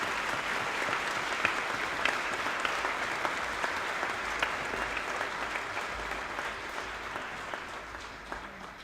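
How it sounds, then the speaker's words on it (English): An audience claps steadily at a Project Hope Strut For The Cure charity event, dense sustained applause from a crowd that tapers slightly toward the end. "I just ask you guys for a round of applause for yourselves for coming out and supporting this."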